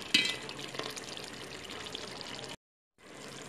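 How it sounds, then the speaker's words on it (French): Water poured into an aubergine sauce simmering over the fire, a steady trickling, splashing pour that runs for about two and a half seconds, then briefly stops before resuming. "Donc voilà, je vais y ajouter de l'eau."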